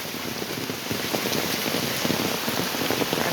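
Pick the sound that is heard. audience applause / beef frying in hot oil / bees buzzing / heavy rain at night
heavy rain at night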